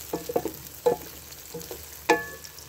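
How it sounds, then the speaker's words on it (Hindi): Mutton pulao ingredients stirred in a pan over low heat while frying golden brown, with a few soft scraping clacks of the spoon over a faint background sizzle, close and quiet. "इसको गोल्डन ब्राउन करते हैं, इसको हिलाते जाएंगे"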